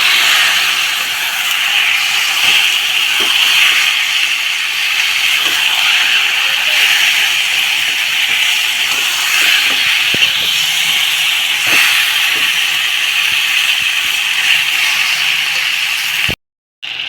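Chicken sizzles as it is added to hot spiced oil for a homestyle chicken kosha. A loud, continuous hissing fry carries steadily close up, broken by a few small crackles and a brief cutout near the end.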